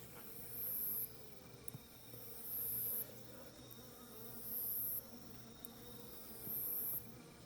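Honeybees hum in a steady, low, continuous drone at an opened beehive during a late-season hive and queen inspection, the buzzing close and unbroken with no talk over it.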